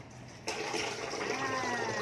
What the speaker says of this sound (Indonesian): dicuci dengan air mengalir aja ya